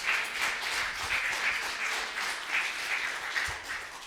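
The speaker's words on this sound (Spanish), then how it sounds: "Denle un aplauso a Cristo Jesús." Church congregation applauding Christ Jesus during a worship service, a sustained round of clapping that swells and fades slightly, moderately close and without speech.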